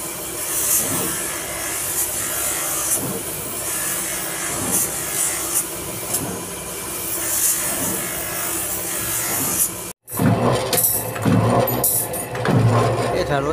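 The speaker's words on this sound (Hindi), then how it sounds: "अब ये सारा रेगमाल लगा के सफाई हो रही है" Repeated rasping strokes of sandpaper rubbed over a hand-shaped spoon in a Wazirabad cutlery workshop, a steady close scratching rhythm running under talk and workshop background.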